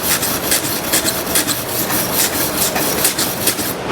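A wire brush scrubs loose slag off a fresh MIG weld bead, a close, steady rasping scrape in quick repeated strokes that goes on without pause and with no talking.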